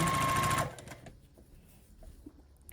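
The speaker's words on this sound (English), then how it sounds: "And I sew these 4 on to the bottom of the block." A sewing machine stitches quilted fabric pieces for a mini Christmas stocking ornament, in a short loud buzzing run that stops abruptly, followed by faint handling noises close by.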